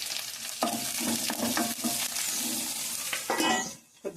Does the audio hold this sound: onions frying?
yes